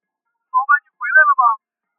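In an animated cartoon, a telephone is dialed, producing a quick series of clean electronic keypad beeps in two short bursts against silence.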